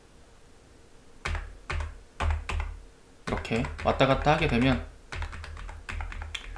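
Computer keyboard arrow keys are pressed while switching saved camera views in ZBrush, giving a handful of crisp, separate clicks close by, with a person speaking between and over some of the taps.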